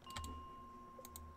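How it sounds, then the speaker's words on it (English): Quick, faint clicks from a keyboard and mouse during a Stardew Valley co-op gaming session: a few light taps in two short clusters, close and quiet, with no talking. "I don't know if you could hear all my clicking"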